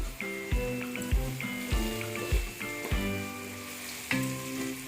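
Garam masala and biryani masala frying in a pan for soya chunk biryani, a soft hissing sizzle beneath a louder plucked melodic tune with regular note onsets.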